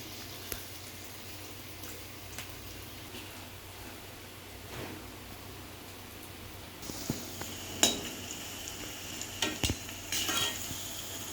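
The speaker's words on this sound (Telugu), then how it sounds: "ఆయిల్ వేడయ్యాక వీటిని 1 బై 1గా వేసుకుంటూ డీప్ ఫ్రై చేసుకోవాలి." Cauliflower pieces deep frying in hot oil for street-style cauliflower fried rice, a steady faint bubbling sizzle with a few light clinks of a utensil toward the end.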